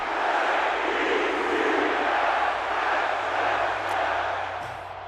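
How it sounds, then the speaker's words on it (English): Stadium crowd roaring steadily in a football video game at MetLife Stadium, a broad continuous cheer that swells and holds throughout without any voices on top. "The crowd here at MetLife approves."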